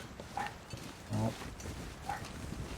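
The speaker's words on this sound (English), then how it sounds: "Sounds like my vicious dog wants inside." A dog barks a few short, distant yips and whimpers from outside, wanting to be let in, with a brief louder bark in the middle against a quiet room.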